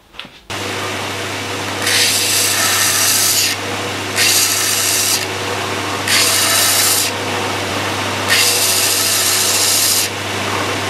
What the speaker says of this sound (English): So then I take them to the linisher.